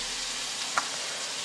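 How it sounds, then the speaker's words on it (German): Corn and bell pepper sizzle steadily in a frying pan still greasy from sucuk, a soft continuous hiss with a tiny pop near the middle. "Also ich werde gleich Mais und Paprika in der Pfanne starten"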